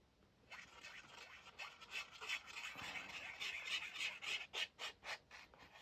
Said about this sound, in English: That's my glue bottle.